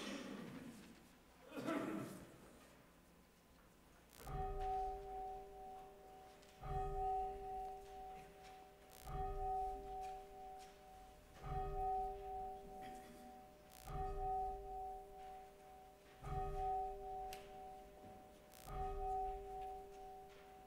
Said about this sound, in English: and then you can ring the bell